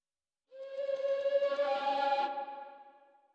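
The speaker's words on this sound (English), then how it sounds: "it's a wooden flute I recorded" A single sustained wooden flute note sounds clearly and close, breathy with a slight wavering, then fades out with a soft reverberant tail.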